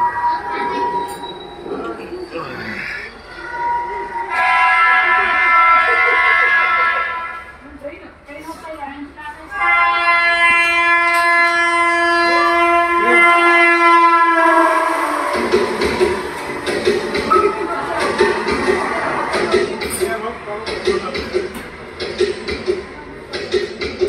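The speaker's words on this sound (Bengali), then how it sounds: "হঠাৎ ট্রেনের সাইরন বাজবে, তারপর ট্রেন চলাকালীন যে সাউন্ডটা আসে সেই সাউন্ডটাও বাজাচ্ছে" A train horn blares, followed by the rumble and squeal of a running train. The sound effects come from speakers in a train-themed restaurant in Bangalore, with long tonal horn blasts, rattling and people talking throughout.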